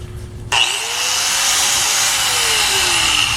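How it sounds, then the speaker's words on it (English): An electric grinder cuts into a metal plate, starting with an abrupt loud bite and then a sustained harsh, high whine that slowly drops in pitch as it grinds on. "take my grinder, plug it in"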